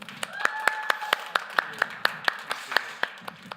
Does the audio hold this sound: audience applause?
yes